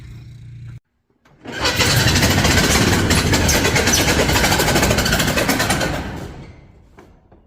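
After a brief pause, a tractor engine fires up and runs loudly with a steady, chugging roar for several seconds, then winds down and fades.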